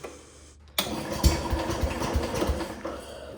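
An old Cub tractor engine cranks briefly, then catches abruptly and settles into a loud, uneven putter with irregular pops, close by and with no talk.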